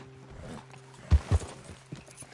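Horses in a video game, with a couple of hoof clops standing out against a low ambient background as riders dismount to go on foot, heard briefly without speech.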